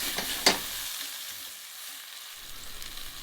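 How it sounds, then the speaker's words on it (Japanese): Onions are stirred into leftover oil in a cocotte pot, giving a soft sizzle and a sharp scrape of the utensil early on, then a quieter frying hiss that fades and returns, with no voices. "玉ねぎを入れたら鍋に残っている油とよくなじませてよく混ぜます。"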